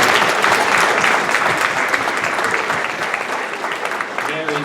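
Audience at an elementary school board literacy event claps steadily for several seconds, a dense even patter that tapers slightly toward the end, with faint voices underneath.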